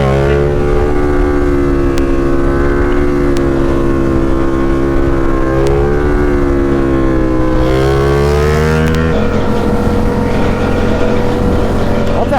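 Motorbikes race along an island road, engines revving loudly and continuously with rising and falling pitch as they accelerate, a dense roar close by throughout.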